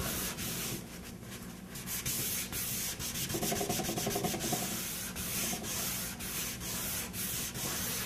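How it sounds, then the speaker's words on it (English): A rag rubbing stain into stainable primer on a sheetrock wall, with steady, close scrubbing and swishing back and forth across the surface and no talk. "Now I'm just going to take a rag and wipe this off."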